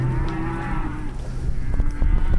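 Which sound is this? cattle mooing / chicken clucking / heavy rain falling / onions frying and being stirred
cattle mooing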